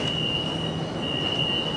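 A modern MRT metro train heading toward Bandar Utama runs steadily from inside the carriage, with a constant high whine over a low rumble of wheels on track, smooth and continuous, no talking.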